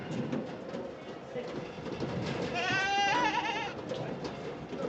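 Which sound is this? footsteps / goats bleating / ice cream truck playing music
goats bleating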